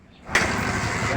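A car engine cranks and catches abruptly after a quiet moment, then settles into a steady, close idle.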